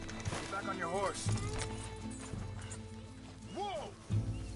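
In Red Dead Redemption 2, a horse's hooves thud rhythmically while two whinnies rise and fall, one early and one near the end, under spoken voices.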